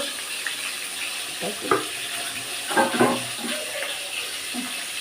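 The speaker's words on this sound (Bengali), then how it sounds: "তেলেতে মাছ ভাজা হচ্ছে" Boneless rohu fish fries in hot oil in a home kitchen with a constant hiss, and a few scattered clinks and stirring knocks break through it.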